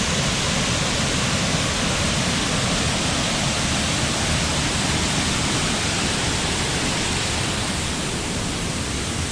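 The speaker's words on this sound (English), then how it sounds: "Just a little further down, another thunderous waterfall." A thunderous waterfall on the Ricketts Glen Falls Trail, a loud, steady, broadband roar of crashing water, close and unbroken throughout, with no voices.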